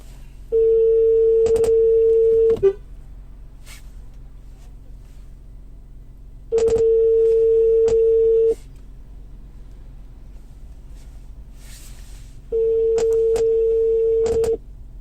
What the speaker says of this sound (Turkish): şu an arama işlemini gerçekleştirdi. Şu an arkadaşın açmasını bekliyoruz.